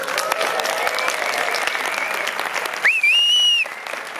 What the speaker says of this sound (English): Please, let's give a huge hand of applause to Sitges